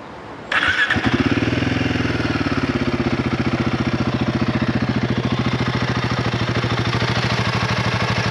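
A Royal Enfield Guerrilla 450 motorcycle is started after a brief quiet moment, catching at once and settling into a steady, close, evenly throbbing idle that stays loud and continuous to the end.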